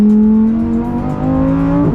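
A Lamborghini Huracan Tecnica with a seven-speed dual-clutch gearbox revs hard, its engine and exhaust howling loud and close in one sustained, steadily climbing note.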